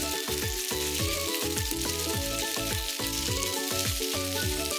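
Wakame, shredded imitation crab and corn sizzle in hot sesame oil, a dense, continuous frying crackle with steady stirring throughout.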